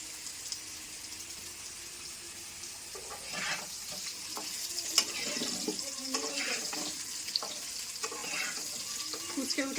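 Potatoes frying in a pan, with soft sizzling and scattered stirring scrapes and clinks, moderately close and continuous.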